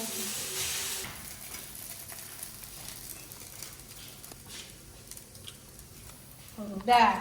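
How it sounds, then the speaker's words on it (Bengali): Chowmein with fried vegetables stir-frying in a pan, giving a soft steady sizzle and light stirring scrapes that sit at a modest level, with a person talking nearby. "আমি চাউমিন বানিয়ে দিচ্ছি"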